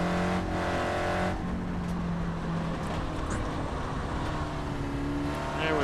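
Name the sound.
Mazda Miata car engine in VR racing video game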